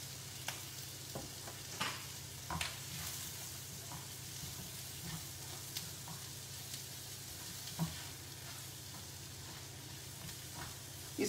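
A mixture of Kashmiri chili powder, salt and soy sauce frying in a pan, a quiet steady sizzle broken by repeated scraping stirs, with no talking over it.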